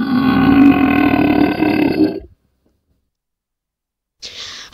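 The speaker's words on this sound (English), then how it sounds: "How dare you burp loud on me?" A loud, drawn-out burp rumbles for about two seconds, followed by silence and then a brief burst of higher noise.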